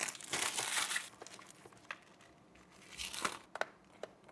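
DJI Osmo Action 5 Pro packaging is torn open up close, giving bursts of crinkling and ripping paper and plastic, louder at the start, then quieter rustles and a few sharp tearing snaps.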